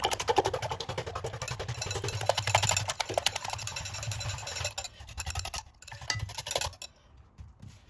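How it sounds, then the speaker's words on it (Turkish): Eggs are whisked in a bowl with fast, close, rattling clicks in a steady rhythm that loosen toward the end and then stop, leaving near silence. "Yumurtayı çırpalım."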